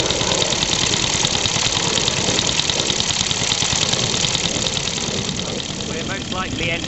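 A steam car engine running on compressed air runs steadily with a busy, chuffing texture, close and fairly loud throughout.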